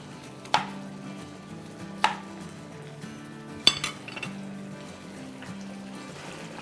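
Green chillies are sliced diagonally with a knife on a board, a few sharp, separate chops spaced a second or two apart, close and fairly quiet over a low background hum, with no talk.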